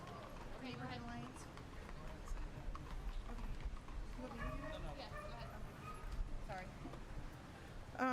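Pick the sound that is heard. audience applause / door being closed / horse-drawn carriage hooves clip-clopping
horse-drawn carriage hooves clip-clopping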